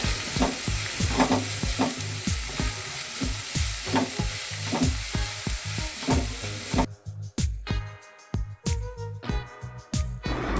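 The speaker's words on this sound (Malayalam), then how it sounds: "കൂടെ 2 പച്ചമുളക് 2ആയി കീറിയതും ചേർത്ത് വഴറ്റുക." Chopped medium onions and slit green chillies sauté in hot oil with a constant sizzle, punctuated by rhythmic scraping and knocking of a spatula against the pan, close and busy, the strokes becoming sharper and more spaced toward the end.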